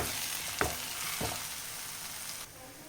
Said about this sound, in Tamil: எண்ணெயிலே நல்லா வதக்கலாம் ரெண்டு நிமிஷத்துக்கு